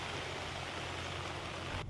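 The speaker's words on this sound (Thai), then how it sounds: "ฝนไม่มีทีท่าจะหยุดเลยนะครับ" Steady monsoon-season rain pours down in northern Thailand in a constant dense hiss, with no talking and no break.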